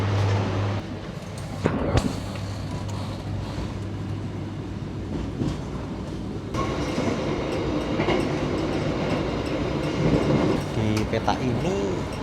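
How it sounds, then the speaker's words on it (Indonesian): An executive-class passenger train in Indonesia runs along smooth rails at about 110 to 120 km/h, giving a loud continuous rumble and rushing roar with occasional clacks and brief squeals, heard from inside the carriage. "Kereta ini relnya cukup bagus ya, walaupun kereta ini dipacu dengan kecepatan antara 110 sampai 120"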